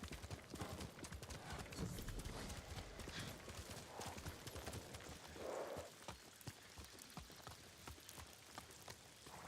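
Horse hooves clip-clop in the video game Ghost of Tsushima, a steady run of hoof strikes over a soft rain-like background, moderately close and with no talking.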